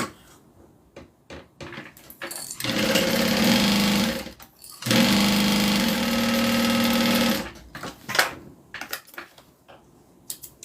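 A sewing machine stitches the bottom onto the interior lining of a handmade bag in two steady, loud whirring runs separated by a short pause, framed by clicks and handling noises.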